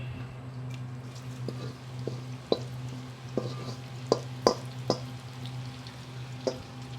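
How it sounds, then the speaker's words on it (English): Onions going into about a cup of hot cooking oil for an Indian restaurant-style kulchi lamb dish, a steady low sizzle with scattered sharp pops and crackles over seven seconds, no talking. "When the oil is hot, we're going to add this amazing onions."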